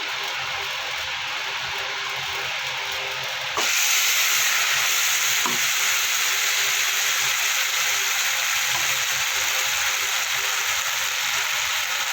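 Spice paste hits hot oil with black cumin for a Bengali mustard-style parshe fish curry, and a soft background hiss jumps into a louder, steady sizzle that keeps going without any speech.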